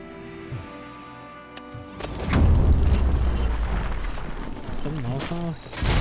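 A grenade detonates in RoboCop: Rogue City, a loud close-range blast that roars out after some tonal game sounds, followed by a rumbling tail and a voice at the end.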